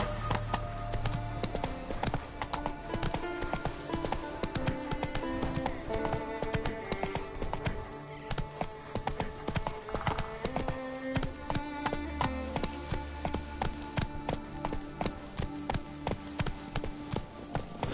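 Roach, a horse in The Witcher III video game, gallops with rapid, rhythmic hoof clip-clops at close range, steady and continuous over a low background score.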